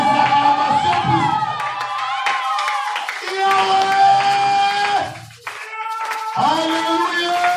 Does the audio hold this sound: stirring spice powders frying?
no